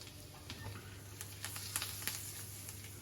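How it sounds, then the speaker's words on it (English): Capers and parsley sizzle quietly in a large frying pan, a soft steady crackle with a few brief spits and stirs, no voices. "So you're just heating up the capers and the parsley."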